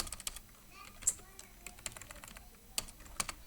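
Numbers are typed on a computer keyboard in quick, close key clicks with short pauses between them, while a voice murmurs faintly in the background.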